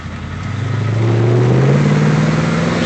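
A 1969 Ford Mustang coupe with a 302 V8 and automatic transmission pulls away under light throttle, its engine note rising steadily in pitch and loudness from a low idle to a smooth, sustained drone close by.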